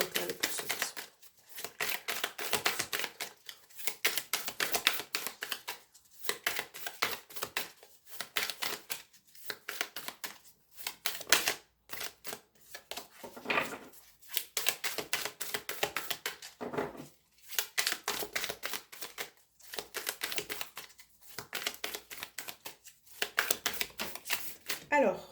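Tarot cards are shuffled by hand for a love reading, a steady run of soft riffling and slapping bursts with brief pauses between, close and fairly quiet throughout.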